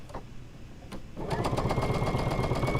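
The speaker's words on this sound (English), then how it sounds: "So I'm going to open this one up and sew this last second row piece together." Sewing machine stitching quilt block row pieces together, a brief stop-start at first, then a steady, fast, close mechanical whir with rapid needle rhythm running continuously.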